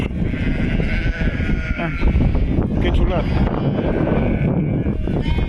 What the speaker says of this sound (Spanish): las ovejas vienen con nosotros